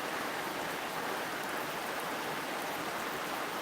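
Heavy afternoon downpour making a continuous, even hiss of rain, loud and unbroken, with no voices.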